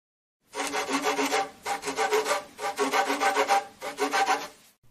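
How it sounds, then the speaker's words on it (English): A shaper tool rounds the leather tip of a pool cue in four steady back-and-forth rasping strokes, close and alone, each a dry scraping burst separated by brief pauses. "If your tip is flatter than this, you can use a shaper tool to make it round again."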